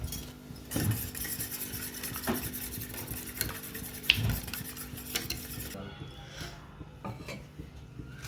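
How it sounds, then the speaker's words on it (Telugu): Three eggs with salt and chili powder being beaten in a bowl for a bread omelette, a steady scraping and clinking of a utensil against the bowl with a few sharper taps, close and continuous, with no speech. "ఎగ్స్ 3 తీసుకున్నా నేను, దాంట్లో ఉప్పు కారం వేసుకొని బాగా మిక్స్ చేసుకోవాలి"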